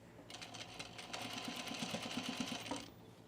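A sewing machine stitches across a seam on a V-neck coat in a continuous rapid whir for about two and a half seconds, slightly labored, up close and with no talking.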